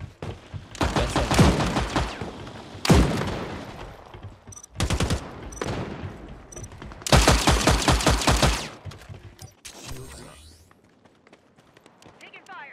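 Video-game gunfire in several loud bursts of rapid automatic shots, separated by short pauses and with single sharp cracks between them, while players talk over the action.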